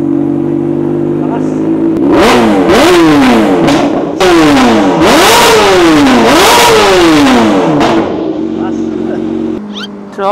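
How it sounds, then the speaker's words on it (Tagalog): A 2024 Kawasaki ZX6R sport bike with a full aftermarket exhaust system revs hard and close, rising and falling in repeated sharp throttle blips over a steady idle, then settling back down. "Okay, soundcheck natin. Full system, ZX6R."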